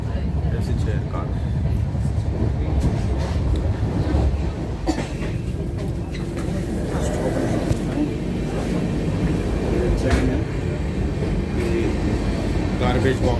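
Mumbai to Goa Janshatabdi train running, heard from inside an AC chair car: a continuous low rumble with faint rhythmic wheel clatter and occasional clicks, steady throughout with a voice speaking over it.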